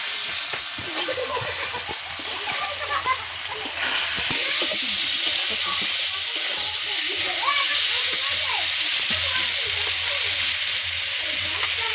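Spices with chili powder frying in oil for a rui fish and potato curry, a steady close sizzle and hiss holding throughout with a low hum beneath.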